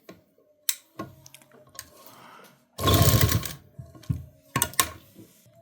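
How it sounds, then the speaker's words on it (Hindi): A sewing machine stitches lining onto a readymade kurti's semi-stitched neck, running in short bursts: a loud whirring run near the middle and another near the end, separated by quiet pauses and small handling clicks. "आराम से ही हमें यहाँ पे सिलाई करनी है"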